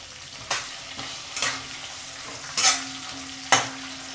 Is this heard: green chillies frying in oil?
yes